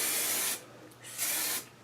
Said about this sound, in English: I'm gonna hairspray.